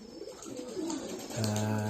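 Pigeons at Hasan pigeon farm, around bathing time, coo close by: muffled murmuring at first, then a steady sustained coo carrying to the end.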